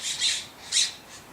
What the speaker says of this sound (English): There are some crazy birds over there, and they're kind of freaking me out.